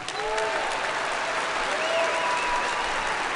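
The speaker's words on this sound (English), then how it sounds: "Please give them a round of applause." A crowd at a 2014 commencement ceremony claps steadily and loudly throughout, a dense sustained round of applause with a few faint voices and whistles mixed in.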